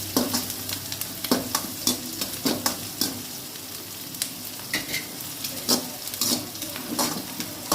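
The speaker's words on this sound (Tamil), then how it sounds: "ரெண்டு கொத்து கருவேப்பிலை எடுத்து உருவி அதில் சேர்த்துக்கோங்க சேர்த்து நல்லா வதக்கிக்கலாம்" Curry leaves sautéing in a pan of oil for a chicken dish, a continuous close sizzle with regular scraping strokes and light taps of a ladle against the pan.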